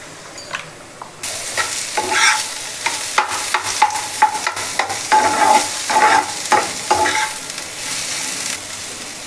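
Potatoes and onion fry in a pan for a fish curry, with a steady sizzle under repeated scraping and stirring strokes that come in uneven bursts, close and fairly loud.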